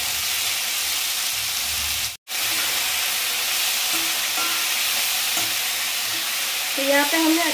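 Moogri and potatoes hit a hot pan with hing and sizzle loudly and steadily while being stirred, with scraping knocks, a momentary cut near the start, and a faint voice toward the end.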